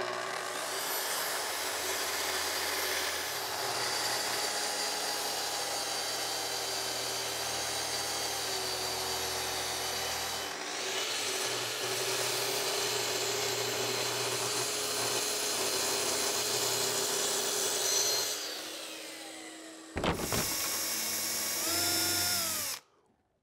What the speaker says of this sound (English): So I'll rip all the plywood down for this